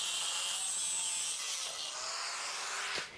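A metal handlebar is cut off, a steady harsh grinding or sawing rasp held close and loud for about three seconds before it trails off, with no talk.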